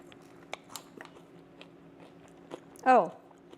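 Someone bites into an air-fried banana pepper, making one loud, close crunch near the end after a few quiet clicks and small mouth noises.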